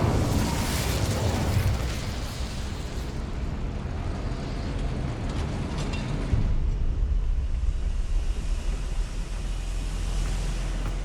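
Incendio fire spell cast in the Hogwarts Legacy video game, a dense roaring whoosh of flame with rumbling bursts that fills the whole stretch loudly and continuously.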